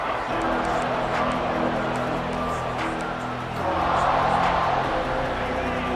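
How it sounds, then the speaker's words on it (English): Stadium crowd noise from the College Football 26 video game swells as a broad, steady roar during a red-zone defensive stand, continuous and loud for the whole stretch, with commentary-like mixing and a low hum underneath. "And the crowd coming to life here, trying to help this defense down in the red zone."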